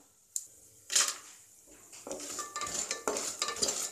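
Urad dal and chana dal frying in oil in a pan for wheat rava upma, with clattering stirs and a crackling sizzle that grows steadier toward the end, close by.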